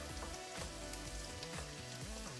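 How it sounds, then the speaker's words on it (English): Chopped garlic sizzling and frying in a hot pan for a Thai spicy cantaloupe dish, a steady crackling hiss with scattered pops, fairly quiet and heard alone. "I don't want to cook this garlic too brown, so I'm going to turn it down"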